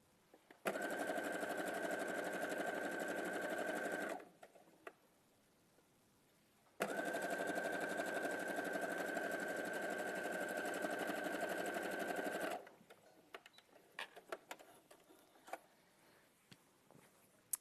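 A sewing machine stitches a quarter-inch seam through fabric and wadding in two steady whirring runs separated by a pause, then falls to a few light handling clicks.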